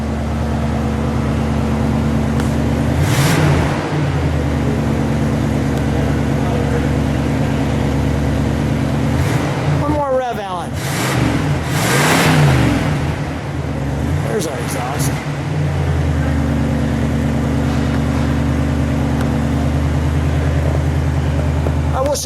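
A 1976 Buick Century's 350 V8 with a restrictive single exhaust idles with a deep burbling rumble, then revs up sharply a few times around the middle before settling back to idle.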